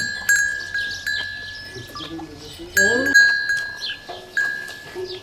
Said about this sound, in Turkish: Öyle bir keçi, özel bir keçi